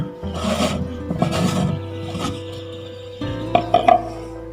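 A compact plastic rainwater harvesting filter unit is opened by hand, giving a few close rubbing and scraping bursts with light plastic clatter between short pauses.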